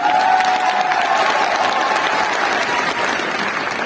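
An indoor stadium audience claps steadily in a dense, loud wash of applause that carries on throughout without a break, with no distinct voices standing out.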